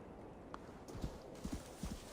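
Horse hooves in the video game Assassin's Creed Valhalla clip-clop in three quick paired beats over a quiet, low background, close and fairly soft with no talk.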